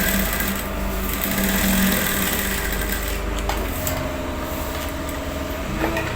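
A sewing machine stitches a shirt cuff in a steady, continuous mechanical whir with a rapid needle rhythm, close and even throughout with no talking.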